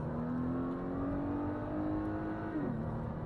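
A modified turbocharged car with a dual-clutch gearbox accelerates hard, its engine note climbing steadily in a strong, continuous drone before a quick shift drops the pitch near the end.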